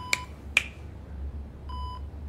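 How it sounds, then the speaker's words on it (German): Fingers snap twice in front of a hospital patient's face, two crisp, close clicks about half a second apart, followed by an electronic beep from a vital-signs monitor. "Girwitz beugt sich über ihn und schnippt mit den Fingern vor seinem Gesicht"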